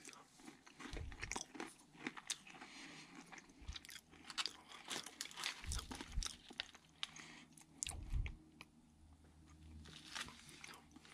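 Someone chewing a piece of a 20-plus-year-old MRE bean and rice burrito, close soft crunching and mouth sounds in an uneven rhythm, fairly quiet.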